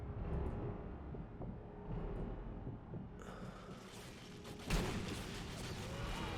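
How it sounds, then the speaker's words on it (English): Low, rumbling battlefield noise in the video game Sniper Elite 3 builds to a sharp sniper gunshot crack, then a broad, noisy blast that trails off. Fairly faint, with no speech. "And then another shot for the explosion."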